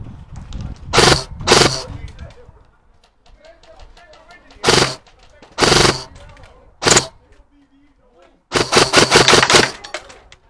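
Airsoft guns firing outdoors in several sharp rapid bursts, loud and close, separated by pauses in which people talk.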